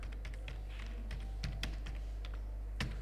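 Keys clicking on a computer keyboard as text is typed in, in irregular short bursts of taps close to the mic over a steady low hum, no talking.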